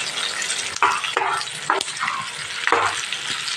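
Green chillies fry in hot oil in a pan while being stirred. A bright, continuous sizzle is broken by four or five sharp nearby scraping strokes, and no one speaks.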